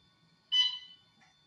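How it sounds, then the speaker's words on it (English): A single electronic alarm tone sounds in a hospital for about half a second, a bright buzzing beep that fades out, with a faint blip after it in a quiet room. "I start recording and the alarm starts to go off."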